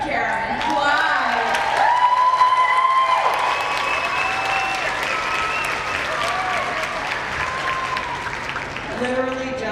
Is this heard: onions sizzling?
no